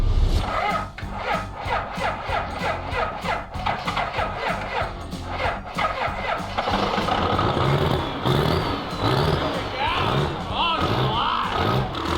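A Ford Ranger truck fitted with twin turbos cranks and catches, its engine rumbling and revving unevenly close by while someone talks over it.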